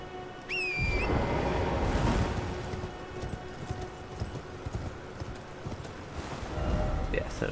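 Horse hooves galloping in Elden Ring, a steady rapid clip-clop close by, with a short whinny near the start and a soft wash of wind and ambient sound underneath.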